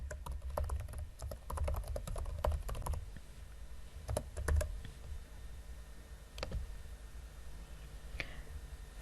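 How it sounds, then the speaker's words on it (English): Quick bursts of close keyboard typing, light clicking keystrokes in uneven clusters with short pauses in a quiet room. "type in the description"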